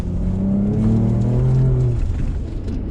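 A four-wheel drive driving on soft, fluffy sand at Inskip Point, tyres at 15 PSI: a loud, close engine that labours and revs, its tone rising and then falling, with steady rumbling road and wind noise throughout.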